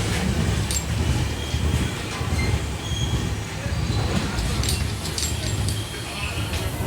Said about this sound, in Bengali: ট্রেন এখন ঢুকছে উলুবেড়িয়া স্টেশনে